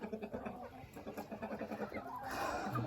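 Ameraucana hens on a farm cluck in quick, repeated bursts close by, with a livelier flurry of calls near the end.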